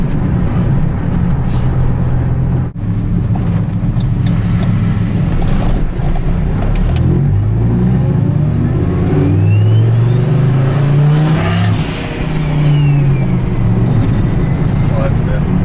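A turbocharged Dodge Ram SRT-10 with a Viper engine and hood dump exhaust roars loudly under acceleration, its pitch sweeping up through gears, while people talk over it.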